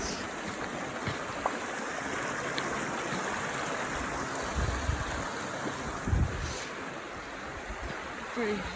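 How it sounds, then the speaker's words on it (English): A large river at Raven Falls in North Georgia flows steadily as a broad, continuous rushing roar, with a few soft thumps and light wind noise. "Pretty big flowing river."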